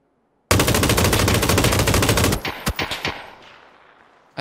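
Sustained rapid automatic gunfire in the shooter game PUBG, a dense loud burst lasting about two seconds, then a few separate trailing shots and echoing decay into quiet, with no talking.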